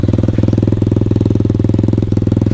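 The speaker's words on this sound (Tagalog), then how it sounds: "So sound check natin dito muna sa KRY 150. Sound check. Idle." A KRY 150 motorcycle fitted with an Akrapovic exhaust idles up close, its loud, steady, rapid thumping pulses running evenly throughout while the engine is still cold.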